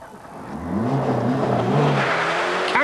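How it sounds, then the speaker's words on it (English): A rally car at the 1995 Monte Carlo Rally drives past, its engine revving and rising in pitch as it accelerates through gears, fairly close, with no talk. "Didier Auriol was determined to drive himself back into contention"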